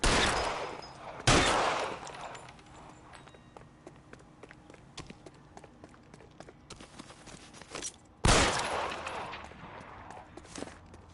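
Gunfire in L.A. Noire, a 1940s Los Angeles detective game: two sharp, loud shots spaced several seconds apart, with quieter footsteps and scuffling running between them.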